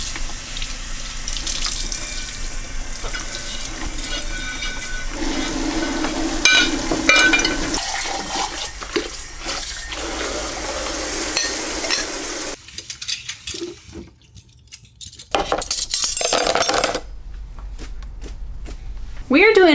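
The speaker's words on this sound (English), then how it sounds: "let's start washing some dishes." Water runs steadily from a kitchen tap into a sink while dishes are washed, with clinks and splashes and a voice talking over parts of it.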